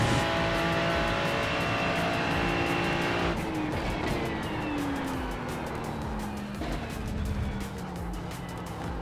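A race car laps the Suzuka circuit with a loud, continuous engine roar. The pitch sweeps down as it brakes and shifts, heard from on board with steady wind and road noise.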